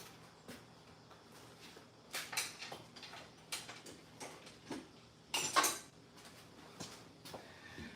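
Ratchet and tool clicks from work on an engine during a head gasket replacement, a series of short irregular metallic ticks and clatters with a few louder bursts, close by and with no talking.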